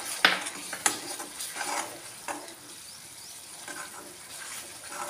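A paste of ground coriander and cumin fries in a pan with coconut for a Bengali jackfruit and potato curry, giving a soft, steady sizzle with a couple of sharp utensil clinks near the start.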